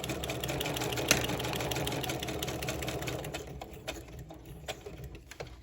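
Sewing machine stitching a zigzag on a craft tag, a fast steady whirring buzz that slows and turns to a few scattered clicks near the end, close and alone.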